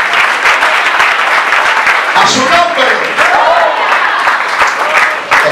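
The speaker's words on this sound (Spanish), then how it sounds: "Den un aplauso fuerte al Rey del cielo." Loud, steady applause from a church congregation fills the whole stretch, with a voice speaking over the clapping partway through.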